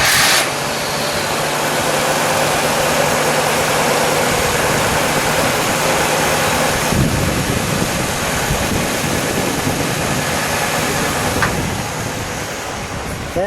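1954 Packard Caribbean convertible engine starting up and settling into a steady idle, a broad, even rumble heard close and continuous with little change in level throughout.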